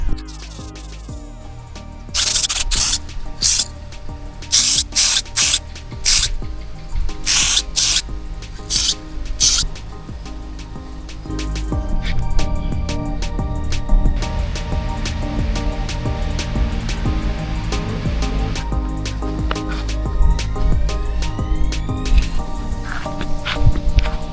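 Satin black spray paint hisses from an aerosol can onto a 1978 Holden wiper motor part in bursts of varying length. Rattling, handling noises and a rougher hiss follow in the second half.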